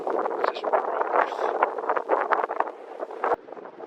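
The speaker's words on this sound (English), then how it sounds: "It's gotten really windy here" Gusty wind on rocky Mount Olympus in Greece rushes and roars steadily across the microphone, rising and falling in uneven bursts with a sharp thump near the end.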